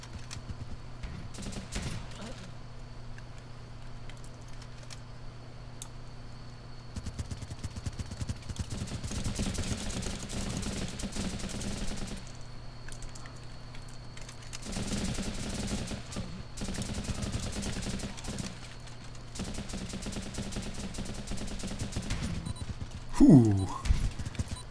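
Continuous M16 rifle fire in the game Running with Rifles during a multiplayer battle: steady machine-gun-like rattling runs the whole way at a moderate level, with a few louder bursts.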